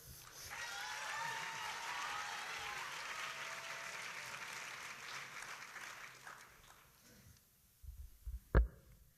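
An audience at a chapel talk breaks into sustained applause to welcome the speaker, a dense wash of clapping that fades out, followed by a few soft thumps.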